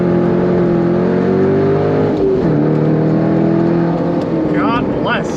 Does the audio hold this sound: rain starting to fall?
no